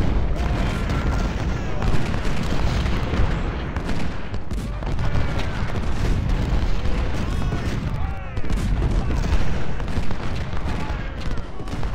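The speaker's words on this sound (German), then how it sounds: "So, jetzt haben wir hier echt Kanonenspaß." Cannon fire rolls through a battle in the strategy game Ultimate General: Civil War, dense booming volleys layered under constant battle noise while someone speaks over it.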